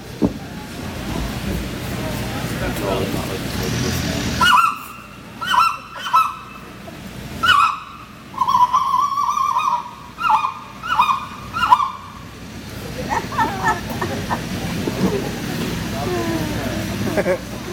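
A person imitates speckle-bellied goose calls with roughly eight loud, sharp honking yelps in an irregular rhythm, close and prominent over a low background hum.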